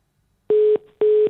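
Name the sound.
telephone dialing tone, call not connecting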